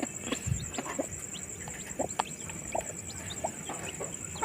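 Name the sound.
chickens clucking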